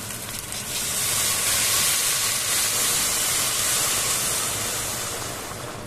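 Water is poured into a hot pot where ingredients for garlic soup have been frying, and a loud hiss of steam swells quickly, holds, then slowly fades.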